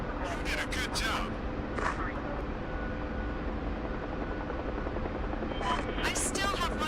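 Helicopter in a video game gives off a steady, loud rotor and engine drone throughout, with bursts of other game sounds and a voice talking over it.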